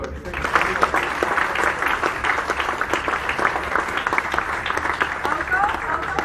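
Applause for students from a crowd at a school captain's speech after a team won a second runners-up trophy: dense, steady clapping filling the whole stretch at even loudness, with voices talking underneath.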